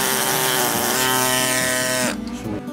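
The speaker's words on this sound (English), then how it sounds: "The drill is used by paleontologists to gently carve out fossils." A loud, steady whining paleontology fossil drill grinds continuously into rock with a droning harmonic tone, then abruptly cuts out near the end, leaving a quieter rumble.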